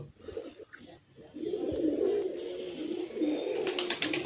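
Capuchine pigeons coo in low, throaty rolling phrases that come in repeated close bursts, with faint chirps and light background noise and no talking.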